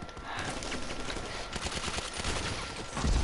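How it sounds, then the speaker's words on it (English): Continuous rapid micro SMG gunfire in the video game GTA V, a dense unbroken fusillade of shots, loud and close throughout, growing heavier at the end. "I'm using like the micro SMG thing."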